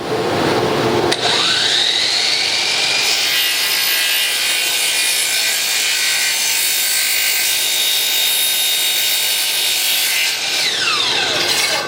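A power saw cuts through wooden handrail pieces for a removable balcony rail, one long steady loud cut that runs alone for most of the stretch, with spin-up at the start and wind-down at the end.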